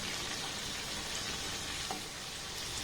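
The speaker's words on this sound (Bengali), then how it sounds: "পিঠেগুলোকে খুব সুন্দর করে ভেজে নিয়েছি।" Semolina pitha sizzle in hot oil in a pan, a steady close crackling fry that runs throughout with a small stir or clink near the end.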